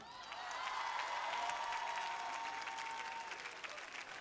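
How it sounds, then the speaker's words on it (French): Festival crowd applauding Christiane Taubira, sustained distant clapping with a faint steady tone running through it, swelling early and holding at an even level, with scattered sharp claps standing out. "Je vous demande d'applaudir bien fort"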